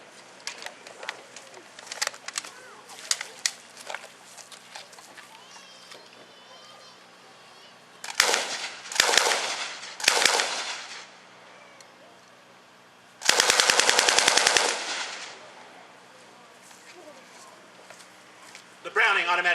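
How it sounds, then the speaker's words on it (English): A Browning automatic rifle fires in fast and very fast modes: two short bursts, then a longer, denser, louder stretch of automatic fire. Pigeons coo quietly in the open-air quiet before the shooting. "The Browning automatic rifle also has 2 speeds, fast and very fast."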